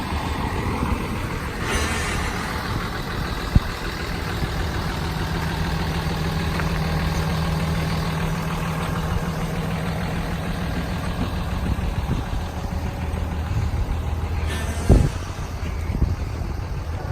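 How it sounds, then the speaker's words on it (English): A 2010 Dodge Ram 5500 bucket truck's engine idles in a steady, loud, close rumble throughout, with a slight rise in pitch as it revs and a sharp knock near the end. "I'll let him rev it up a little bit. Let him hear it."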